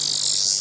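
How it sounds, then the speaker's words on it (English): A small redback cicada held in the hand gives a continuous, loud, shrill buzzing scream that stays steady and close throughout, with no voices over it. "the funniest thing about cicadas is how you hold them depends on whether they scream at you."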